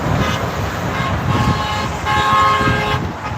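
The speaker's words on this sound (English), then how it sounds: "Y'all hear them horns honking?" Car horns honk from passing traffic at a roadside flag-waving rally for Trump in the Twin Cities, with a longer, steadier toot standing out over the continuous hum of road noise.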